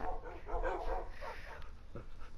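Tamed dogs in Minecraft, PlayStation 4 Edition, give a few short barks and yips. They sound faint and close, mixed with a person talking.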